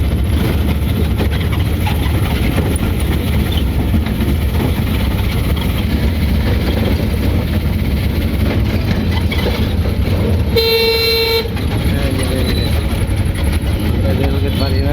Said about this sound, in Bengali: রেল স্টেশনে এসে পৌঁছাইছি